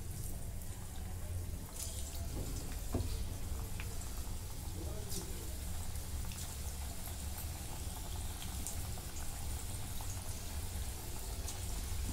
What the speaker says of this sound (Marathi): तेल गरम झालं. आता ह्याच्यात भजी सोडून घेते.